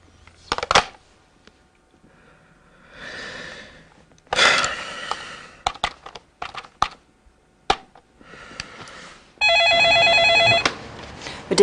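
A telephone rings near the end in one sustained electronic burst, clear and fairly loud, after scattered clicks, taps and rustling.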